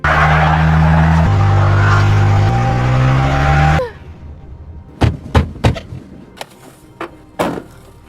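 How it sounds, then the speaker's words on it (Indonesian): In a film scene, a car stuck in snow revs hard with its engine droning loudly for several seconds, then cuts off, followed by a run of sharp thumps and knocks. "mobil Angie terjebak di genangan salju, sehingga ia tak bisa menjalankan mobilnya."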